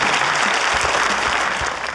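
Audience applause during a televised debate show, a dense burst of many hands clapping at once that carries on steadily and fades a little toward the end.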